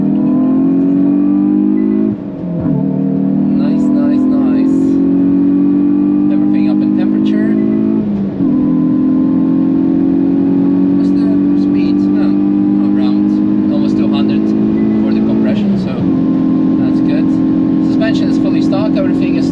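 Hyundai i20 N tuned by RaceChip accelerating hard on the Nürburgring, the engine climbing through gears in three long rising pulls with brief dips at each upshift, loud and close from inside the car.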